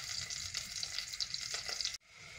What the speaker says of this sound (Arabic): راني درت الزيت يتقلى، غادي ندير البصله تاعي والثوم ولي زيسكالوب